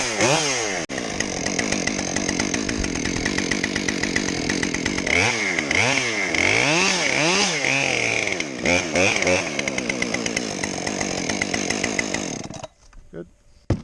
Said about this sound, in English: So hot start procedure for a saw that's already kind of warm: high idle, then down.